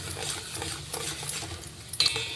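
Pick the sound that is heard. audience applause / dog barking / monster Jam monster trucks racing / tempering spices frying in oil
tempering spices frying in oil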